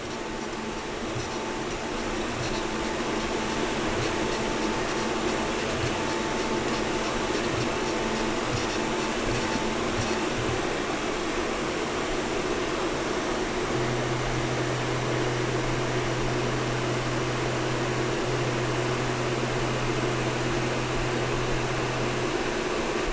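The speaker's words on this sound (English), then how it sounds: "The 3D printing of the bottom section is just about done." A 3D printer printing the bottom section of a dust extractor part, a steady whirring drone with stepper-motor tones and a fan hiss, continuous and fairly loud throughout.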